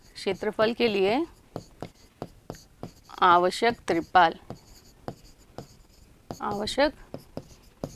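Chalk or pen strokes tap and scratch in short bursts while maths working is written out on a board or paper, with a voice explaining between the strokes.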